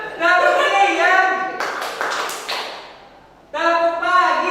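A classroom group claps a rhythmic burst of quick claps as part of a clap game, with chanting voices before and after the claps.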